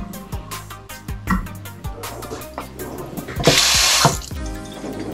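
A hotel suite kitchen tap runs into the sink with splashing and clattering, broken by a few knocks, then a louder gush of water for about half a second near the end.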